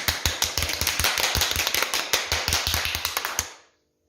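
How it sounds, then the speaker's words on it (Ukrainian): Fast, uneven clapping from a small group, steady and close for about three and a half seconds, then stopping abruptly into silence. "Давайте поаплодуємо собі гучно-гучно."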